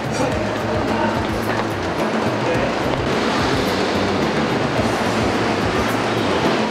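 A train rumbles steadily at Guadalupe Station, a loud, dense roar of wheels and carriage noise that holds without a break from start to finish, close by.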